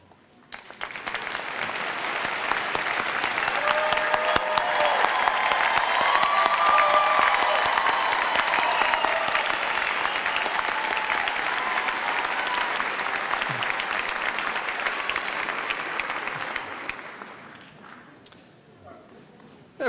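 Commencement audience at a Virginia Tech graduation applauding the graduating students, a large sustained ovation that swells in, holds loud and steady for many seconds, then fades out toward the end.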